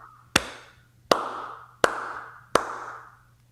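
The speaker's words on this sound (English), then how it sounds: "You got the slow clap" A slow clap: four loud, sharp, evenly spaced hand claps about three quarters of a second apart, each ringing briefly in a room, with no talking.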